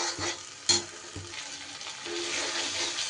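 Spice masala sautéing in hot oil for a spinach dish, a steady close sizzle with a few sharp scraping stirs of the spoon against the pan.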